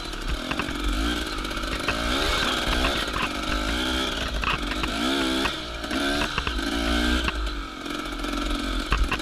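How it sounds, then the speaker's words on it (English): Two-stroke dirt bike engine chugging steadily through a hare scramble in Peterson Coulee, a continuous loud, close drone with wavering pitch as the throttle rises and falls, no talk over it. "Two-stroke, just chugging nicely,"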